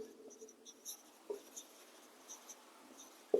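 Pen writing out a math solution for an arithmetic progression problem: faint, close scratchy strokes in short bursts against a quiet background, with no speech.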